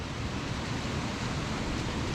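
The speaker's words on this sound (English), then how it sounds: "the flow of the water and the speed of it in this narrow channel is unreal" Fast water rushing through a narrow channel in wild Scottish countryside, a steady, dense roar that fills the whole moment without pause, loud and close, with no voices over it.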